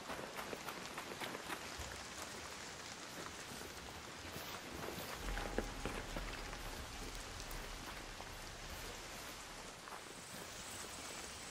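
Rain falls in the video game Arc Raiders, a steady soft hiss of drops on surfaces that continues evenly and quietly throughout, with a brief thump midway.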